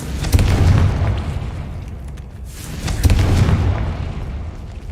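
Confringo blasting spell cast in Hogwarts Legacy, bursting in two loud, close booms about three seconds apart, each with a heavy low rumble that decays slowly, no talk over it.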